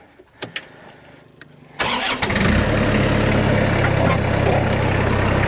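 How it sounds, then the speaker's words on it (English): A tractor engine cranks over and fires after a few clicks, then settles into a loud, steady, rumbling idle close by, with no talk. "I'm gonna have to start the tractor back up because it's drifted down some."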